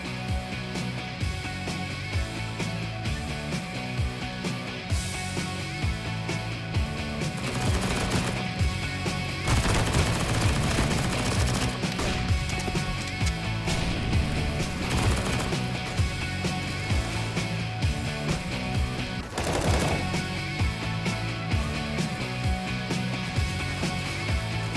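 Steady rifle fire in Counter-Strike during an IEM Cologne 2021 esports match, with rapid bursts of shots layered over constant game noise for the whole stretch.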